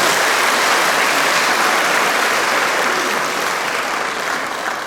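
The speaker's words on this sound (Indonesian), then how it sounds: "Kita berikan aplaus untuk kehadiran Bapak Bupati." Audience at a university event applauding the arrival of the Regent, with dense, loud, continuous clapping that fades slightly toward the end.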